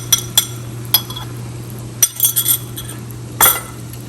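Chicken being mixed with two beaten eggs seasoned with black pepper and salt in a dish for chicken shashlik, giving scattered sharp clinks and scrapes of a utensil against the dish, with quiet gaps between them and a steady low hum behind.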